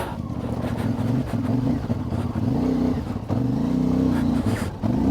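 A CF Moto 450MT on Kenda Big Block tyres churns through mud on a trail, its single engine droning with a steady mid-pitched hum that rises and dips with throttle, close and continuous, with faint clatter underneath.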